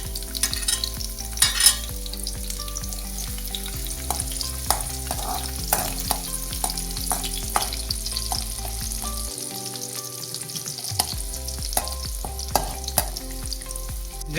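Garlic and green chilies sizzle and crackle in a hot pan for vegetable noodles, a steady loud frying hiss broken by stirring scrapes and clinks, with a brief quieter stretch near the end.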